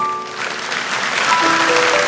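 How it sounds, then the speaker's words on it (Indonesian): Moderately loud congregation applause at a church sermon, continuous clapping with faint sustained tones in the background and no speech. "Kasih tepuk tangan untuk Tuhan Yesus."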